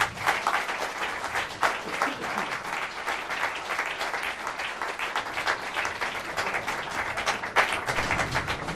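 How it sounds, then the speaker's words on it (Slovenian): An audience at a Women's Day cultural event in Kapele applauds a long-standing singing group, producing dense, sustained clapping that runs evenly for about nine seconds. "Zaploskajmo vam še enkrat."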